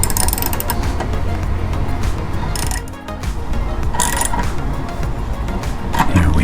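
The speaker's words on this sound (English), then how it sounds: "Grab a ratchet, give it a little bit of a twist." A ratchet wrench snugs down a part during a major service on a Suburban water heater in a Trailmanor camper, giving a steady run of close mechanical clicking with a short pause midway.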